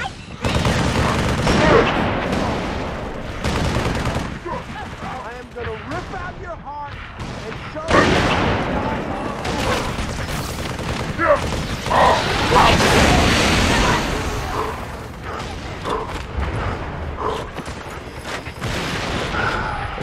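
Gunfire in the shooter Halo 3 ODST, dense overlapping shots and booming blasts running steadily throughout, with a voice talking over the combat.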